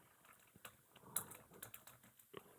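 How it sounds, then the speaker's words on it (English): Quiet keystrokes on a computer keyboard entering a word in software, a short run of soft, uneven clicks at close range with no voices. "so I will type incident here"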